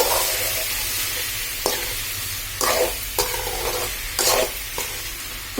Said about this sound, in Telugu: టమాటా ముక్కలు వేసిన తర్వాత మంచిగా కలపండి.